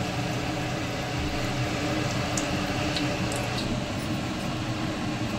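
Besan-battered vada frying in hot oil, a dense steady crackling sizzle that holds evenly throughout, close and fairly loud.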